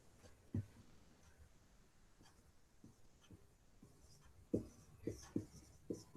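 Writing on a board during a signals and systems lecture: faint, scattered scratchy strokes at first, then a quicker run of several close strokes near the end, with no talking.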